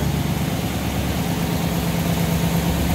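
A 1955 Ford Thunderbird convertible's engine idles steadily, a loud, even low rumble with a smooth continuous hum held throughout, no voices over it.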